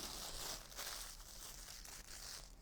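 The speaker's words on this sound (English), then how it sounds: "I do have another plastic bag to put that in, just in case I use that again" A plastic bag crinkles and rustles close up in a crafting setting, a continuous crackly handling sound that is quiet but steady throughout.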